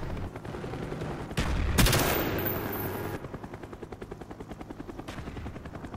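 Cobra attack helicopter in a video game roaring in with a loud rotor wash and bursts of rapid gunfire, then its steady thudding blade rhythm fading somewhat into the background.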